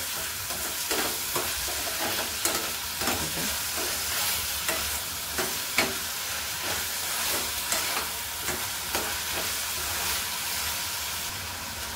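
Tomato and onion fry together with a little salt in a pan, a continuous sizzle punctuated by repeated scraping stirs at a loose, regular rhythm, close and without any voices.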